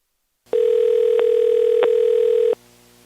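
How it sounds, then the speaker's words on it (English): A cell phone call rings out on the line as one steady, loud electronic ringback tone lasting about two seconds, then goes quiet, with no voices. "I called his cell phone, which I found listed on the company's homepage"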